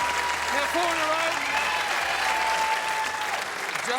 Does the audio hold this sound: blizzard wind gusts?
no